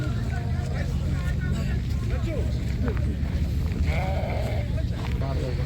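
Ewes with lambs bleat intermittently at a livestock market in Taraz, Kazakhstan, over a constant low engine rumble, with people talking nearby.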